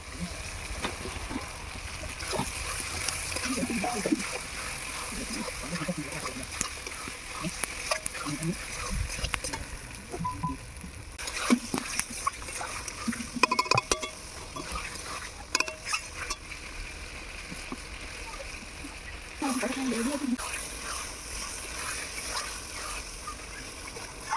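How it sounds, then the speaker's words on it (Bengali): Pre-fried potatoes tossed into a pan of frying spice masala for Kashmiri aloo, giving a steady low sizzle with stirring and scraping throughout, and a few louder clatters midway. "এবারে আমি ভেজে রাখা আলুগুলো দিয়ে দেব।"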